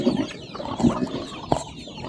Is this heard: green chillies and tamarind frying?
no